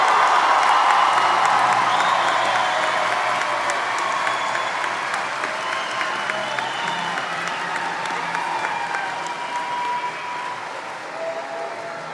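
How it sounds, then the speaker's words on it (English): Sustained applause from a high school graduation audience, a dense wash of clapping with scattered whoops and cheers that holds steady throughout before easing slightly near the end. "How about one big round of applause for the Central Crossing High School class of"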